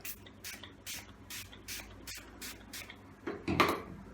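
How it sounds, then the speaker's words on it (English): A spray can applies a thin coat of antiperspirant directly onto a scalp in a string of short, soft hissing bursts at a steady pace, close by and quiet, ending in a louder fumbling clatter. "Spray a thin coat of no sweat directly onto your scalp."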